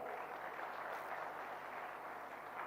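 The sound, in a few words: conference audience applause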